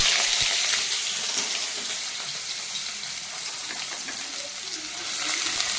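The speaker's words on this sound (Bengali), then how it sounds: "প্রথমে দেবো আমি বিন কড়াই আর গাজর, যেহেতু এটা শক্ত একটু, সেই জন্য এটা আগে আমি ভাজবো" Beans and carrots frying in hot oil in a wok, a steady loud sizzle with broadband hiss and occasional crackles throughout, no voices.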